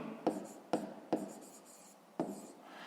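A pen writes out a maths solution on paper in four short scratching strokes, three close together and one after a pause, heard close up and quiet with no speech.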